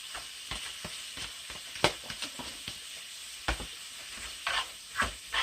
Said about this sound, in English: And we're going to saute this until that's almost done